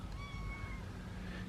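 Two young orange house cats meow softly and briefly over a steady background hum, with no voices present.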